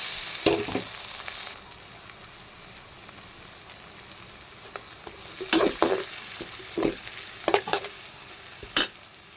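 Tomatoes tossed into a hot frying pan for egg parotta, with a steady sizzle under several louder stirring scrapes and clatters of a spatula against the pan, close and continuous, no voices.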